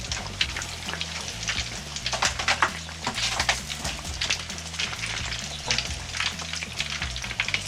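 Eggplant slices frying in hot oil in a pan, a steady dense sizzle and crackle with faint irregular pops, close and continuous with no talking.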